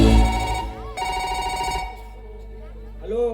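A telephone rings as a call is placed to the police during a Kannada stage drama, its electronic ringing tone sounding in bursts with brief gaps, fairly loud and close.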